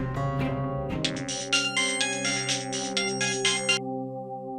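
A mobile phone rings with an incoming call, playing a bright electronic melody of rapid repeated notes for several seconds before cutting off, with no talking.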